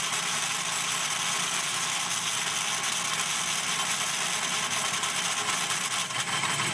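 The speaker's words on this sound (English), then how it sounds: "When the hole saw bottoms out" Hole saw cutting into metal tube, driven by a non-electric drill, giving a steady, dense, close grinding hiss that continues without a break.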